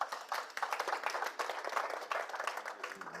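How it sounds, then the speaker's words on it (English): Audience applause for the panelists at a climate change policy dialogue: many hands clapping in a steady, dense patter that holds for about three seconds at moderate loudness. "So a round of applause for our panelists,"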